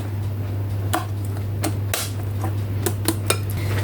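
Metal cake mold picked up and handled in a home kitchen, giving a few sharp clinks and taps scattered over a steady low hum, close and fairly quiet with no talk.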